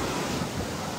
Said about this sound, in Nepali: ऊ परेदेखिको छाललाई हेर्छु है म